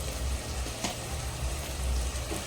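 Onions sautéing in oil with a little rock salt in a clay pot, a steady close sizzle and crackle that holds evenly throughout with no talking.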